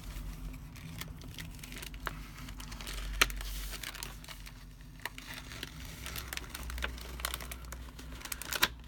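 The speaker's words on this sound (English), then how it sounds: "If I peel this off carefully," A printed image transfer being peeled carefully off a glassine bag, a faint crinkly rustle with a few small ticks and crackles, close and quiet.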